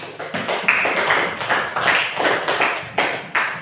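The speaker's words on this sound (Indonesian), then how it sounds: "tepuk tangan buat teman kalian tadi" A classroom of students claps for a classmate, a ragged burst of many hands striking in quick uneven rhythm that holds steady for a few seconds at moderate, close range.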